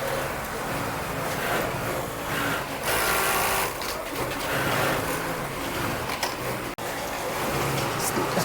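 A loud, continuous industrial sewing machine whirs and rattles up close as it stitches a shirt tab in a garment factory, with a brief break partway through and a dense mechanical drone throughout.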